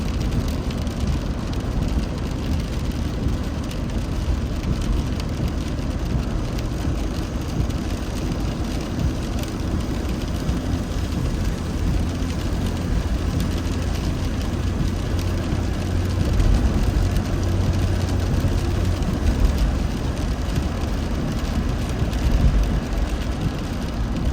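A car drives at about 80 km/h on a slippery, rain-soaked Kuwait highway during a morning commute, giving a loud, steady roar of tyres on wet road mixed with the hiss of rain, swelling slightly partway through.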